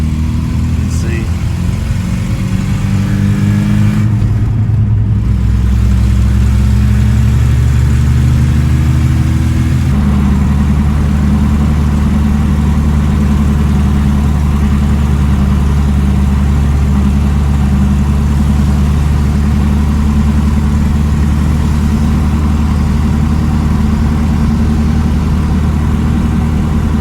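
A Toyota 22R engine runs steadily, a loud close idling drone with a brief change in pitch early on, then a constant even hum throughout the rest of the stretch.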